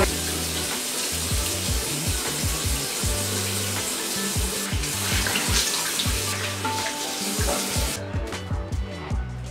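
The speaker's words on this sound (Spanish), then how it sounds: "No tengo que lavar las manos antes de lavarme la cara." Water runs steadily from a bathroom tap while hands are washed under it, a continuous close splashing hiss with irregular splatter as the hands move, until the flow cuts off near the end.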